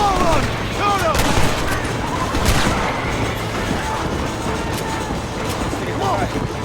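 Gunfire in the Western video game Red Dead Redemption crackles in a dense, continuous barrage of shots and booms, while shouting voices carry over the top throughout.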